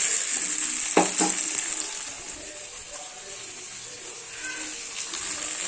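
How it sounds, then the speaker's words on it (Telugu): Bean curry being stirred with salt in a pan, a soft continuous sizzle with a couple of sharper scraping clicks early on, moderately quiet throughout with no talking. "ఉప్పు వేసుకోవాలి, కలుపుకోవాలి, బాగా కలుపుకోవాలి"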